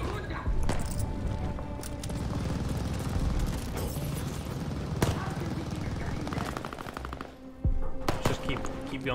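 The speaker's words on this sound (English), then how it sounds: "Where are y'all shooting at?" Rapid machine-gun bursts and scattered single shots from a battle in Call of Duty Vanguard on Xbox Series X fill a loud, dense firefight that runs the whole time, with a brief dip before another loud burst.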